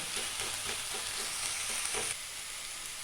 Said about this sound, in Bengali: এটাকে চাইলে আপনারা একটু হাতার পেছন দিয়ে একটুখানি স্ম্যাশ করে দেবেন, যাতে আলুটা শাকের সাথে ভালো করে মিশে যায়